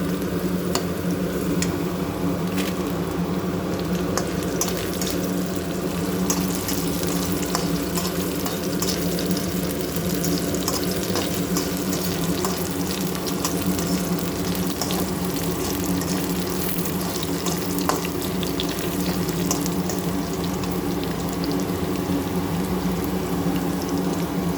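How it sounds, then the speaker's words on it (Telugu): Dried red chillies frying in hot oil in a pan, giving a steady, close sizzle that runs unbroken throughout with no one speaking. "ఎండుమిరపకాయలు వేసుకున్నాం."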